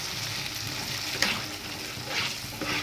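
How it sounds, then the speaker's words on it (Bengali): A spice masala of tomato paste, salt, and ground cashew and melon seed paste frying in oil, giving a steady soft sizzle with a few brief stirring scrapes, close and alone. "মশলাটা বেশ কিছুক্ষণ কষালাম, পুরো তেল ছেড়ে দিয়েছে মশলার থেকে।"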